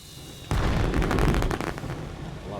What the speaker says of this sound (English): Let's set off some fireworks.